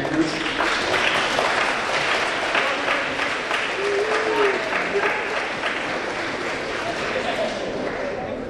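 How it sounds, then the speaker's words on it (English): At an awards ceremony, students applaud their parents with long, continuous, crowded clapping at a steady level, with a murmur of voices and brief calls mixed in. "just give them a round of applause and thank your parents"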